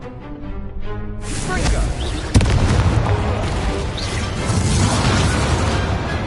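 An Incendio fire spell goes off in a wizarding video game, a loud whooshing burst with a sharp crack, followed by sustained roaring noise; a voice speaks just before the blast.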